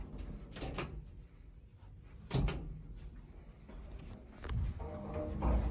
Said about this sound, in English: The door closes when it wants to.